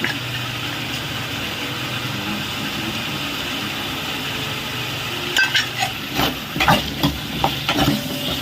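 Eggplant and drumstick pieces fry in hot oil for a Tamil-style sambar, giving a steady sizzle that turns busier in the second half with scraping, knocking stirs against the pan; no talking.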